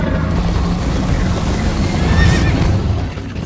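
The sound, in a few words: horse neighing and galloping in Minecraft Story Mode video game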